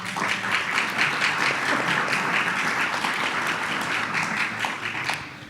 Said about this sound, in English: They totally deserve that round of applause.